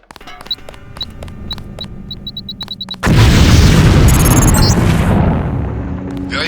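A demolition charge goes off in the game Deus Ex after several seconds of sharp beeping clicks, a loud sudden blast that roars and slowly decays with crackling debris over the final seconds.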